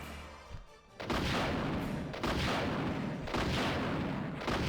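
Gunshots in the 1998 Resident Evil 2 game: after a quiet opening second, loud booming shots land at steady intervals of roughly a second, each with a long echoing tail, no speech.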